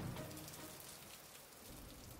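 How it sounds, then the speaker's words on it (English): Steady rain falls in a dense, even hiss of drops hitting a surface, continuous and close, with no voices. "The rain started and water rose from the ground."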